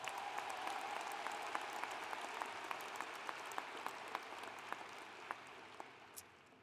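Audience clapping at a spring commencement ceremony, a sustained, fairly distant patter of many hands with a few sharper individual claps standing out, steady throughout.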